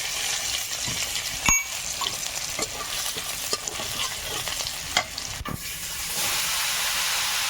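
Crushed garlic frying in hot oil with nigella seeds in a wok, a steady bright sizzle and hiss punctuated by a few sharp stirring clicks, close and continuous.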